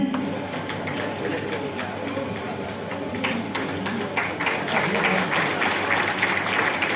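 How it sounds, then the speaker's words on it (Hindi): Steady applause from a crowd welcoming guests onto a stage, dense and continuous, with a voice speaking over it. "तालियों से इन लोगों का तो वेलकम किया जाए।"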